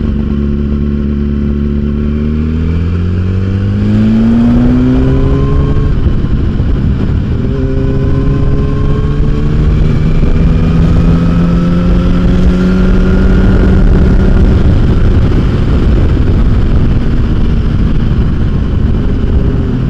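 A 2008 Yamaha R1 motorcycle engine under way on the road, steady loud drone with rising and falling pitch as the rider shifts through gears and accelerates, wind rush throughout.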